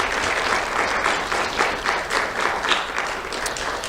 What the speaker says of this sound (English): So let's have a round of applause for our principal sponsors.